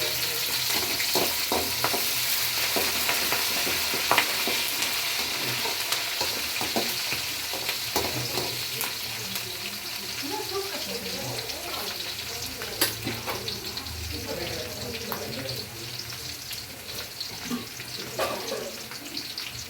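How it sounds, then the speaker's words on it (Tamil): Onions, garlic and curry leaves sautéing in a pan for a traditional South Indian side dish, a steady close-up sizzle with frequent stirring scrapes and clicks. "இது கொஞ்சம் வதங்கின பின்னால் நம்ம வெங்காயம் சேர்க்கணும்."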